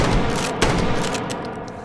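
A shotgun fires in the VR shooting game H3VR, one sharp loud blast with a fast-fading boomy tail, close and alone.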